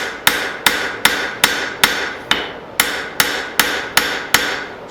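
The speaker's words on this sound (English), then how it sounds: "Now I'm just kind of plenishing." Steady hammer blows planishing forged steel, smoothing out leftover straight peen marks on a piece of dug-up junk metal, with about twelve sharp, ringing strikes in an even rhythm, close and loud with no talking.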